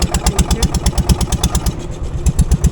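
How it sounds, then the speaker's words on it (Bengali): A motor boat's engine runs steadily on a sea crossing from Namkhana to Gangasagar, a loud, close, rhythmic chugging with a fast regular beat and no talk over it. "এই নৌকায় তো নৌকা চালু হয়ে গেছে অলরেডি"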